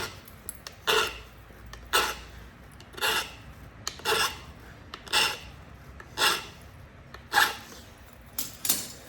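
Rhythmic rasping strokes sharpen the edge of a flintknapped coastal clay stone point, about eight evenly spaced scrapes, close and fairly quiet, with no talking.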